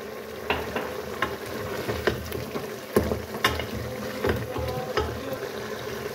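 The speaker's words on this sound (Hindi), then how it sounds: "अब हम इसको भून रहे हैं और भून के फिर इसमें मटर डालेंगे।" Chicken keema fries in oil with a continuous sizzle while a spoon stirs it, scraping and knocking against the pan in a regular rhythm about once a second.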